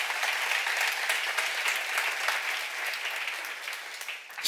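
A church seminar congregation claps together in a dense, steady burst of applause that runs for several seconds and gradually thins toward the end.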